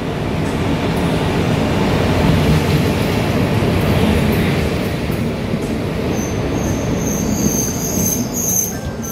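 The Sealdah–Lalgola passenger train rolls along steadily with a loud, continuous rumble of wheels on track and high metallic squeals from the wheels, close by throughout.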